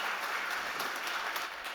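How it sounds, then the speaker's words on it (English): Audience at a startup competition session on trust tech and data applauds a pitch speaker with a steady, moderately loud patter of many hands lasting the whole short stretch. "big applause for him"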